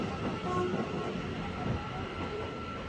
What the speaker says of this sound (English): 150-105 is 105, not 103, is now departing off to Bletchley.